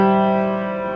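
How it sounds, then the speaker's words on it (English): A single chord rings out on a piano, struck once and left to sustain steadily and clearly for about a second. "So the chord sounds like this on the piano"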